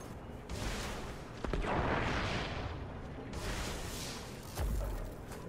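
Bursts of gunfire and blasts ring out in the Destiny video game, loud dense volleys that swell and ease in waves and continue with no pause.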